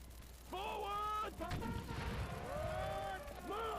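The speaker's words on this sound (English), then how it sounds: "See, that was a pretty close artillery shot." Close artillery shots and a barrage of booms in the Civil War game The Blue and the Gray, set at the Battle of Manassas, rumbling loudly through most of the stretch while voices talk over it.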